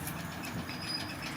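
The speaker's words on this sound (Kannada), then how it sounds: "ಮೆಟ್ರೋದಲ್ಲಿ ನಮ್ಮ ಪ್ರಯಾಣ ಸಾಗುತ್ತಾ ಇದೆ" Inside a moving metro train on the way to a mall, a quiet, steady low rumble of the carriage runs throughout, faint and continuous, with no one speaking.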